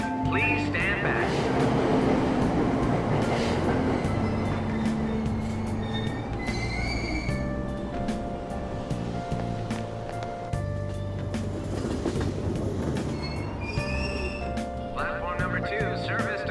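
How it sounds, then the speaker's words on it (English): A subway train in the video game Persona 5 Royal pulls away from the platform, with rumbling wheels and long metallic squeals rising and falling while a voice talks over it. "Train doors are now closing. Please stand back."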